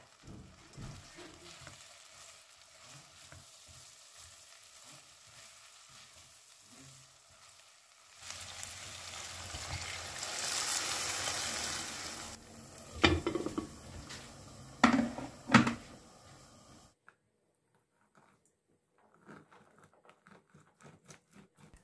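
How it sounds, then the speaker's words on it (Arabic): Soaked rice fries in butter and vegetable oil, sizzling steadily in the pan; the sizzle swells loud midway as a utensil stirs and scrapes, then cuts to near silence. "نقعته نص ساعة كمان وقليتهم بشوية زبدة وزيت نباتي"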